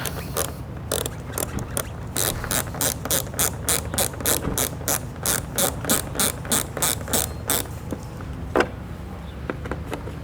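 Ratcheting screwdriver or wrench tightening the screws of a Rally windshield on a Honda Transalp 650 motorcycle, a long run of rapid, even mechanical clicks close up, with no talk.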